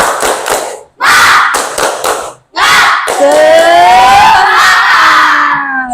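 Schoolchildren in a classroom perform the rhythmic tepuk semangat clapping chant, with bursts of group claps separated by short pauses and then loud shouting voices together.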